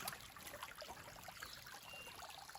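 A small creek runs against cliffs and spills across the tops of rocks, giving a soft, steady trickle and babble of water throughout, faint and unbroken, with no voices.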